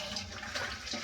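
Water from boiled pasta pours through a strainer in a steady, soft rushing splash, close by and without speech.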